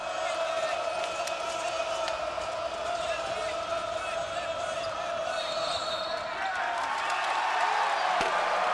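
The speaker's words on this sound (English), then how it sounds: "You can hear the crowd." A college basketball arena crowd during an Idaho at Gonzaga game roars in a continuous wash of cheering and noise, swelling slightly near the end, with commentators talking over it.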